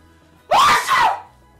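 One loud, close sneeze with a sharp intake and a drawn-out, voiced release, surrounded by quiet.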